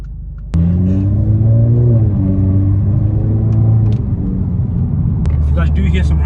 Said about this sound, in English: sometimes it's just nice to hear the sound of the exhaust and the little crackles and burbles it does